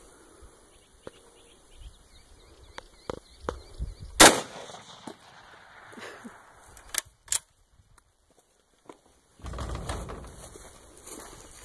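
A single loud gunshot fired at an expired soft body armor vest cracks out sharply, preceded by faint clicks and handling noises and followed by a few quieter knocks and a burst of broadband rustle near the end.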